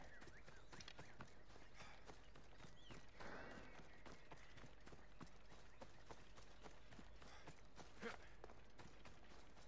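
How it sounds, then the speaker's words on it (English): Horse hooves in Assassin's Creed Odyssey clip-clop softly at a walking pace, faint and distant over quiet ambient game sound. "There's a random horse here."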